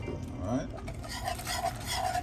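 Caramel sauce being whisked in a pan over very low heat, giving quick repeated metallic scraping and clinking of the whisk against the pan, with a short spoken word near the end.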